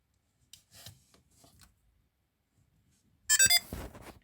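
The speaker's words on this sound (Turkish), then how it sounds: "Bir sinyal sesi aldım." A Samsung Galaxy SmartTag gives a short, bright electronic beep while being added as a device. Faint rustling and handling noises come before it, and a scraping rub follows.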